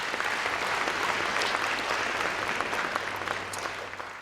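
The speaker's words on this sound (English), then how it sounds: "give yourselves a round of applause for showing up today" Audience applause at an economic update event, a broad steady clapping from a full room at moderate level, slowly thinning toward the end.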